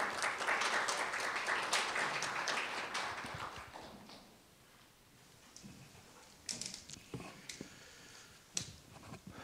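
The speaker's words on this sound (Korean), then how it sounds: "원장님을 큰 박수로 환영해 주시기 바랍니다" An audience at an academic conference claps to welcome a session chair, loud and dense at first, then fades to scattered claps and a few lingering taps.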